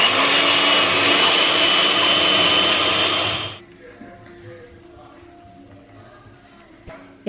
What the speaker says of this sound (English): I'm just going to whisk it to get it nice and soft.